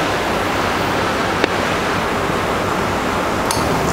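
A shaped pouch filling machine dispenses mango juice as a steady, loud, hissing rush of liquid flow, with a couple of faint clinks and no talk.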